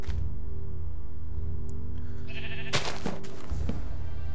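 Sheep bleat in the Minecraft video game, a low droning tone followed by a few loud, sharp bleats close by near the end, with no talking.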